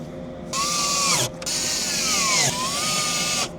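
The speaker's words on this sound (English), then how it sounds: "So that's all the screws into the sill." Cordless power driver whirring in bursts as screws go into the sill of an Audi TT, three close, steady runs with a short pause between, pitch dipping slightly under load.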